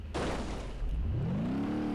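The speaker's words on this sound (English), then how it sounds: "I just broke my exhaust" A sharp metallic crack and clatter in BeamNG Drive as a car's exhaust breaks off, followed by the engine droning on with a rising tone.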